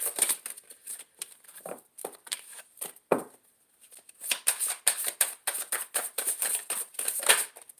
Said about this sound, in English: Why won't the cards shuffle for me?